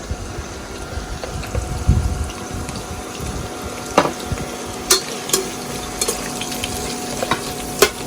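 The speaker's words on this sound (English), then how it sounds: "These are the onions. We have to cook them till golden brown." Finely chopped onions fry in a pan over high heat for a chicken masala pulav, a steady background sizzle with occasional sharper crackles and pops and faint clinks of stirring.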